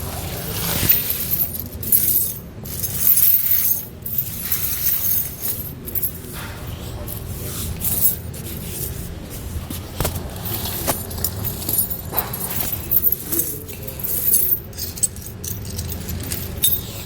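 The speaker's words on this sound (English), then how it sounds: "So now we can take our chains here, we're going to slide them around the back side of the tire." Titan alloy snow tire chains jangle and clink as they are slid around the back of a 2019 Honda CR-V tire, with bursts of metallic rattling between quieter handling.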